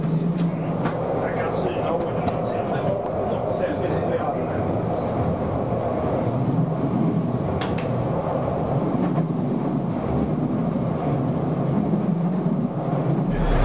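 Steady rumble and rattle from the cab of a Swedish Y6 series railcar running through snowy country toward Helsingborg, with a constant engine drone, faint clicks and a Polish voice speaking over it.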